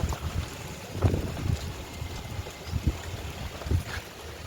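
Strong wind buffets the microphone in low, rumbling gusts that thump irregularly every second or so.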